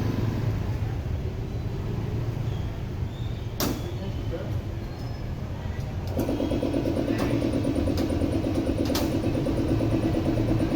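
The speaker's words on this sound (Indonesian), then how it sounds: "Kita nyalakan dulu kompresornya." Air compressor for a pneumatic tyre changer switching on partway through, its steady buzzing hum joining a low engine-like drone, with a few sharp knocks and some talking in the background.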